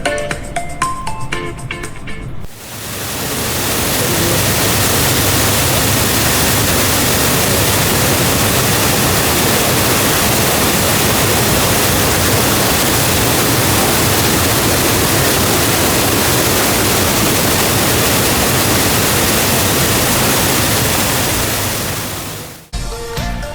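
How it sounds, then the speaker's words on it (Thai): Strong waterfall at Khao Chong Lom in Nakhon Nayok during stormy weather, a loud, constant roar of rushing water filling nearly the whole stretch with no voices. "ตรงนี้นะครับก็จะเป็น ในส่วนของน้ำตกนะฮะ"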